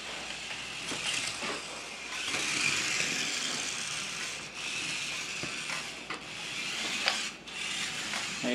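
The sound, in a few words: 1:43 scale RC Hummer spinning out on smooth surface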